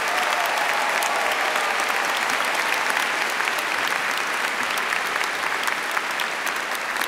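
A large audience applauds engineering graduates at a university commemoration ceremony, with sustained, dense clapping that stays loud and even for several seconds and has no speech over it.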